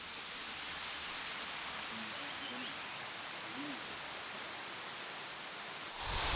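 Small waterfall on a jungle trail in Thailand, a steady, even rush of falling water filling the whole clip, close and unbroken.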